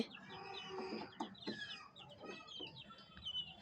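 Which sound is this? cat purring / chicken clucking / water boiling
chicken clucking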